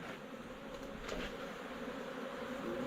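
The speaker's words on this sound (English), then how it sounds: "Wow, there's a lot of bees in here. A lot of bees." Honey bees living in a tree that fell over in a storm give off a faint, steady buzzing hum, with occasional individual bees droning close by.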